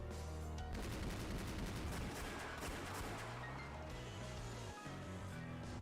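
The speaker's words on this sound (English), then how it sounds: "However, the enemy gunfire was fierce." Dense, continuous gunfire in the video game Rose Guns Days, with rapid overlapping shots and heavy low rumble throughout, loud and sustained with no voices.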